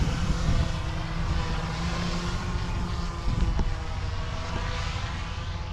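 DJI Mavic 3 drone flying among trees, a steady loud droning buzz of whirring propellers that holds constant throughout, close to the microphone with no talking.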